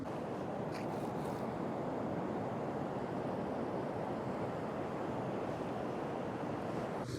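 Ocean waves crash and surge continuously around sea stacks off the Isle of Lewis, Scotland, a loud unbroken roar of surf mixed with wind buffeting the microphone.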